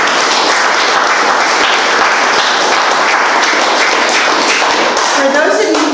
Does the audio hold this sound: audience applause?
yes